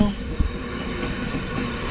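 A Barasat local train rumbles steadily past close by, with a low continuous roar and a single sharp knock near the start.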